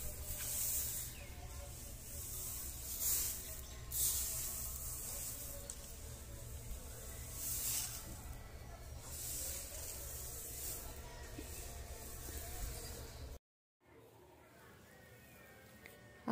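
Vermicompost, cow manure and coco dust are mixed together by hand in a tub for potting soil. Close, continuous gritty rustling and scraping runs on, then drops to near silence before the end.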